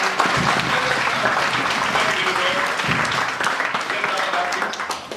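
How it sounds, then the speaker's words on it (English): A church congregation claps steadily through a service, a dense continuous wash of hands at fairly close range with voices mixed in. "Let's clap our hand for Jesus."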